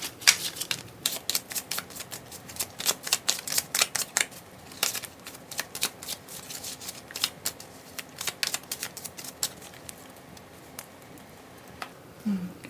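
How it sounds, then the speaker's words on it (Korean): Tarot cards are shuffled by hand in a crisp, irregular run of close riffling taps and flutters that continues for several seconds, with no voices. "저는 카드를 섞고 있을게요."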